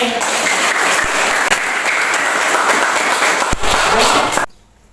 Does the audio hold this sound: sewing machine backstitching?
no